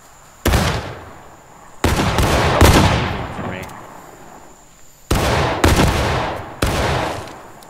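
Musket volleys from a rank of soldiers in the Civil War game War of Rights: four loud, sharp blasts with ragged, overlapping shots and long decaying echoes, spaced unevenly across several seconds.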